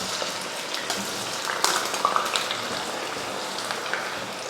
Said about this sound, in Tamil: இப்போ நம்ம போட்டு பொரிச்சு எடுத்துக்கலாம்